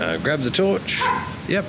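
A pet dog barks and yips sharply several times in a home, close and fairly loud, interleaved with someone talking while playing a VR game.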